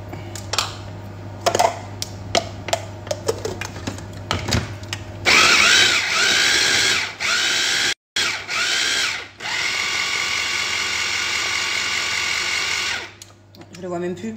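Blender whirring as it mixes salmon, running in sustained bursts with short stops and restarts, while people talk in French around it.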